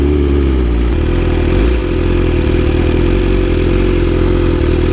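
A 2022 BMW S1000RR motorcycle engine running steadily nearby, a loud continuous idle-like rumble with slight mechanical clatter, heard alone without talking.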